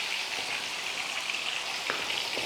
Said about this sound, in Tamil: இப்போ நான் மீனை பொரித்து ஒரு பக்கம் சாப்பிட போகிறேன்